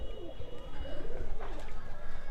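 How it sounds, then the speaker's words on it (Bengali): Pigeons cooing as they gather one by one to feed, a low rolling coo repeating through the whole stretch, fairly close and steady with faint background noise. "একটা একটা করে সব কবুতরগুলো আসছে এখন"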